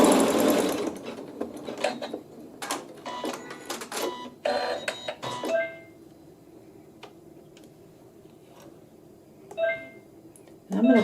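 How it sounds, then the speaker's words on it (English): An embroidery sewing machine stitches a seam, its needle running in rapid mechanical bursts with pauses between, close by and moderately loud, with occasional beeps. "It will sew a seam, and we'll do the same thing on the other side."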